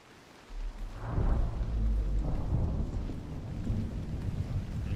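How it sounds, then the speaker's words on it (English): Rain and a rolling thunder rumble play in a free-climbing mountain game: a low boom swells in after a quiet start, then steady rain hiss continues with a second softer rumble, no voices heard. "it sounds like it's raining out here"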